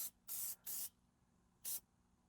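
Three sharp hissing bursts of an aerosol spray paint can on a C6 Corvette build, two close together then one more after a pause, in an otherwise quiet space.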